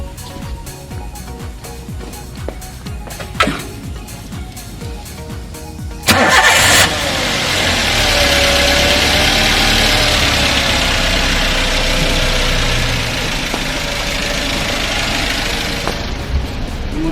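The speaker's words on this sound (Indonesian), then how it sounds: "Sekarang kendaraan saya starter dulu." A car engine is started ahead of an exhaust emission test: a short burst of cranking catches, then settles into a loud, steady idle that runs without a break and with no talk over it.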